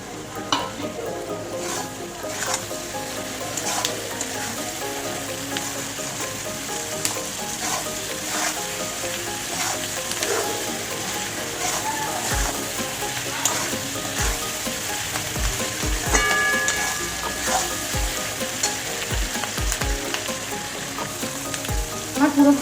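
Chilli chicken fries in a pan with onion, capsicum, green chilli and salt, giving a steady, close, crackling sizzle with occasional stirring clinks, and no talking.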